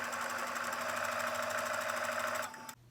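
Sewing machine running steadily while stitching charm pack placemat pieces, a continuous loud whirring hum that stops abruptly near the end.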